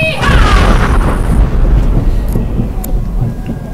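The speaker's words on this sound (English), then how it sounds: "The cannon fire could be heard from over 40 miles away." A cannon fires at a Gettysburg Civil War reenactment, one loud, deep boom that rolls away into a long, fading rumble outdoors.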